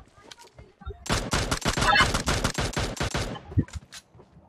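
Shotgun gunfire in the battle-royale game PUBG Mobile: a loud, close string of roughly a dozen rapid blasts packed into a couple of seconds, with quieter scattered sounds and faint voices before and after.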